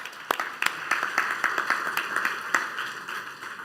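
Applause from a small audience at a talk: scattered, uneven hand claps from several people, fairly close and moderately loud, continuing steadily for a few seconds with no talking over them.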